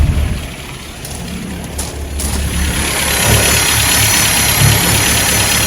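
A 1959 Land Rover Series II 109-inch pickup engine idles while warming up, with a steady low chugging rumble, getting louder and fuller after the first couple of seconds; no voices.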